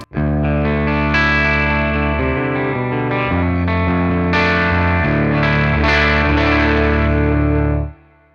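Electric guitar played through a BOSS Nextone amp set to EL84 power tubes, giving fast, low-headroom breakup; sustained distorted chords ring loud and alone with chorus-like shimmer, changing every second or so before cutting off near the end.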